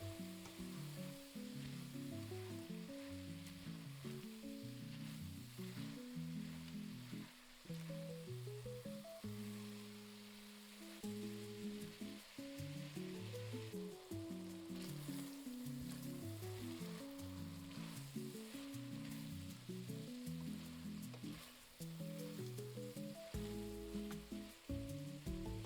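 Ground beef browning in a pan for Bolognese, a faint, continuous sizzle beneath steady background music.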